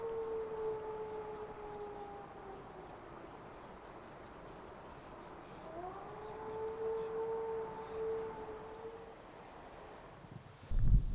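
A wolf howling in the Pamir highlands near Lake Karakul: long, sustained, wavering tones that rise and fall, heard from a distance over a steady airy background, with a second howl gliding upward partway through.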